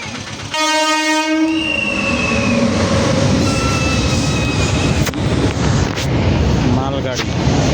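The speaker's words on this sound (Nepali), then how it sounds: "सामानहरू इम्पोर्ट एक्सपोर्ट हुने ट्रेन हो यो चाहिँ" A freight train carrying goods sounds a loud train horn, then rumbles past close by with a steady roar of wagons and faint squeals of the wheels.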